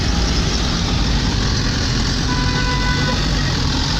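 Dense, steady roar of heavy traffic crawling along a flooded road in Karachi, engines idling and rumbling continuously at close range with no pauses.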